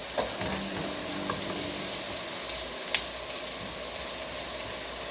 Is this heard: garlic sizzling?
yes